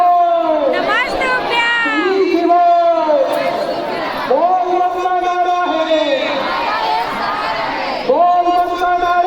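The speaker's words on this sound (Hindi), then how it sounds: "और भीड़ देख सकते हो अपन भारी भीड़" A huge crowd at an outdoor Hindu Shiv Mahapuran religious gathering, loud and continuous with dense babble, shouting and chanting voices rising and falling throughout, people talking close by over it.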